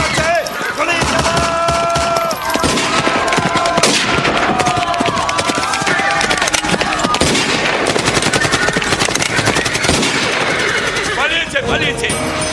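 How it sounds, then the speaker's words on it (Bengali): Gunfire sound effect in a jatra stage play: rapid bursts of machine-gun-like shots crackle loudly and almost without pause, mixed with shouting voices and a sustained tonal backing. "গুলি চালা।"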